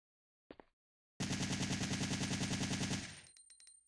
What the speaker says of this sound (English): There's the infinite machine gun.